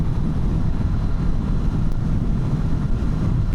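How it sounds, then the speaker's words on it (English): Steady, loud wind roar buffets a rider on a 2025 Kawasaki Z900 inline-four motorcycle at about 70 mph on the highway, a dense constant rush with no talking. "Wind is hitting me"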